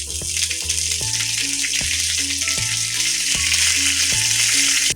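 Cumin, mustard seeds and byadgi chillies tempering in hot oil for a chutney give a loud, steady, close sizzle that lasts throughout, with a soft repeating melody underneath.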